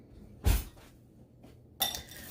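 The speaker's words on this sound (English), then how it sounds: "let me grab another spoon" Cutlery and a spoon clink against dishes in a kitchen while Reuben sandwiches are assembled: two sharp metallic knocks about a second apart, close and fairly loud, with quiet rustling between.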